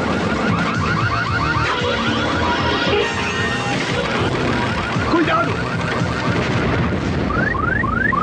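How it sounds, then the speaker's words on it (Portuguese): A synthetic emergency alarm in the video game Mega Man warbles continuously over a dense, noisy game soundscape with crashes, while a voice briefly shouts. "Meu alarme de emergência."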